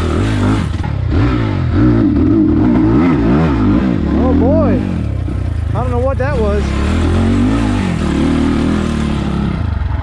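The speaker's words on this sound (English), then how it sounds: "I jammed the throttle really hard trying to go up that hill" A 2022 SSR SR300 Chinese dirt bike's engine revs repeatedly and unevenly as the throttle is jammed, surging and sagging with a carburetor flat spot, loud and near, with a voice talking over it.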